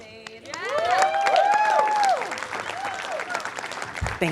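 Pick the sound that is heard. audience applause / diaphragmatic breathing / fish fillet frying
audience applause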